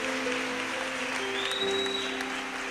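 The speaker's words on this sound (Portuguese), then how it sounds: "Aplauda o nome de Jesus." Congregation in a church service applauding the name of Jesus, a steady dense wash of clapping throughout with sustained music tones or organ underneath.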